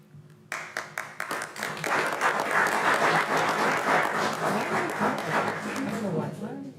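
Audience clapping at a city council meeting begins with a few separate claps, then swells into steady applause that holds for several seconds before easing, with faint voices underneath.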